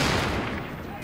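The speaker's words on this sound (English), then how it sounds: "Man, I love that sniper rifle." Sniper rifle gunfire in the video game Tom Clancy's The Division, a single loud close blast with a brief decaying tail and no talk over it.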